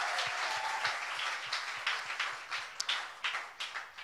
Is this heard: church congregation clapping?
yes